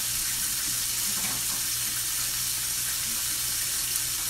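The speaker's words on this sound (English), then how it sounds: "Let me rinse my hands real" A kitchen faucet runs steadily while hands are rinsed under it, giving a constant close splashing hiss that carries on evenly throughout, with no talk.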